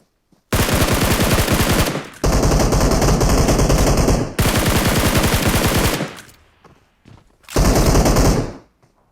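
Loud automatic gunfire in a team shooting video game, long rapid bursts of roughly two seconds each separated by brief gaps, close and dominant with no talk.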